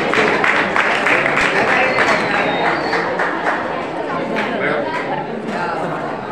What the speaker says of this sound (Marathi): जोरदार टाळ्या या विद्यार्थिनीसाठी.